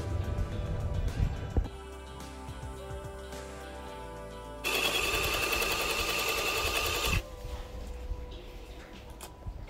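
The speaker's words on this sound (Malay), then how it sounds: "Kemudian barulah kita menjahit apron tersebut." A sewing machine stitches along the edges of a child's apron, running in a steady close mechanical whir that stops briefly, then surges louder and faster for a few seconds before settling back to a quieter hum, with no speech.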